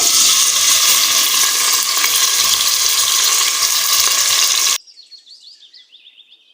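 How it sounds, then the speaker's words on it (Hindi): Chopped onions fried in a cup of hot oil for a black chickpea pulao, giving a loud, steady sizzle that stops abruptly, followed by a faint chirping sound. "इसमें हम 1 कप जो है ऑयल का डाल लेंगे। अब हम इसमें प्याज डालेंगे।"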